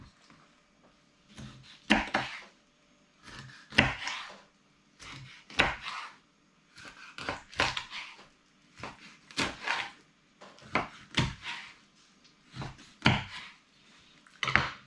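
A knife chops river or lake fish into pieces on a board in steady, firm strokes, about a dozen thuds spaced roughly a second apart, close and clear.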